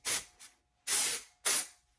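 Dry shampoo sprays onto a wig in short aerosol hisses: two quick bursts, then two longer, fuller sprays, close and crisp with silence between them.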